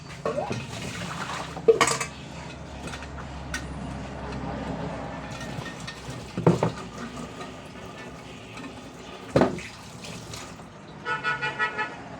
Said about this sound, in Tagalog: Ay, ang tubigan pala nila. Kailangan ko hugasan.